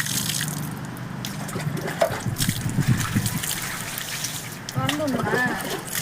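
Water poured or flowing during a Hindu temple abhishekam ritual for Lord Ganesha on Vinayaka Chaturthi, a steady trickling splash running under chanting and nearby talk throughout.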